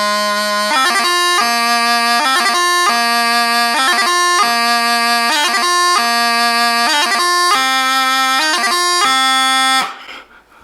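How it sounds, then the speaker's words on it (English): Highland bagpipe playing the Fosgailte Crunluath piobaireachd movement: a loud, close drone bed under rapid repeated grace-note clusters in a steady cycling pattern, alone, ending abruptly. "It's called the Fosgailte Crunluath and it's played"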